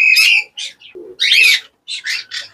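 Conure parrots calling in a breeding aviary, with close, loud, harsh squawks in short bursts separated by brief pauses.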